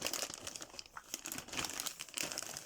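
Plastic zip bags crinkle and rustle as they are handled up close, a continuous crisp crackling with uneven bursts and no talking.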